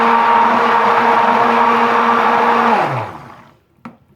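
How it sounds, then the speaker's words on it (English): A stick blender mixes cold-process pumpkin pie goat's milk soap batter with a loud, steady motor whine that spins down and stops near the end, followed by a faint knock. "So I'm going to get my stick blender back into the picture here."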